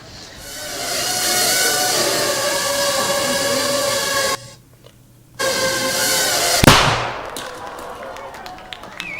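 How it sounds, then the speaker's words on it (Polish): A small 3-gram shaped explosive charge detonates in a single sharp, loud bang that cuts through steady background noise, following a brief quieter pause. "is 3 grams of shaped explosive."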